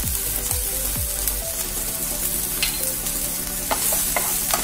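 Turmeric and red chilli powder are stirred through a hot pan, a continuous sizzle broken by rhythmic spoon scrapes and knocks, close and unaccompanied by voices.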